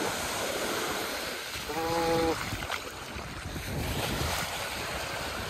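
Surf washing onto the sand at Crystal Bay on Nusa Penida, a steady broad wash with wind noise over the microphone and a brief tonal sound midway.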